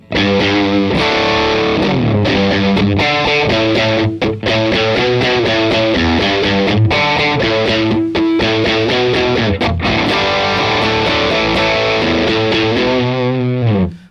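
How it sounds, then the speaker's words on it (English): A loud, heavily distorted electric guitar through a JHS Superbolt overdrive pedal with the gain turned up chugs and rings out in dense, saturated riffs, played steadily for several seconds with brief gaps between phrases. "let's go ahead and turn up the gain a little bit and get just crazy with it"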